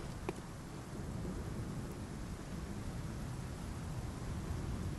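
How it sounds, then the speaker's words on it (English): Steady rain hisses in a dense, even wash in the Fishing Hamlet area of the video game Bloodborne: The Old Hunters, with a low rumbling undertone like distant thunder beneath it. "It's raining."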